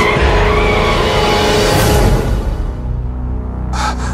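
A motorcycle braking hard gives a loud, sustained tire skid that squeals and scrapes for about two seconds, then fades into a lower rumble, ending with a short sharp scrape.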